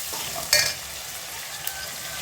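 Onions sautéing in a pan for a tamarind curry with black-eyed peas, a steady close sizzle with a sharp scrape of a stirring spoon early on.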